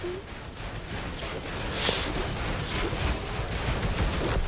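Tank gunfire in the video game World of Tanks Modern Armour, a dense run of muffled shots and impacts over a constant rumbling battle background, with no talk.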